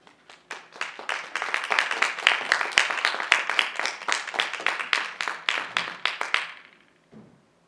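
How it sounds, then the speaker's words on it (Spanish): A crowd applauds to welcome a teacher to the stage at a public talk: a burst of many hands clapping, sustained and loud for several seconds, then thinning out and ending. A brief low sound follows at the end. "Les pido un fuerte aplauso para la maestra Carla y bienvenida."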